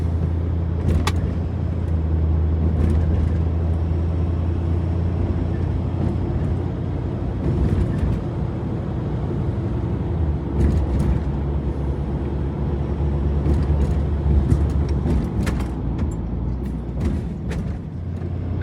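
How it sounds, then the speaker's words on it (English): Car driving along a country road at night, heard from inside as a steady engine and road rumble with occasional faint clicks and rattles throughout, no talking. "So now let's see it driving down the road here, on the country road."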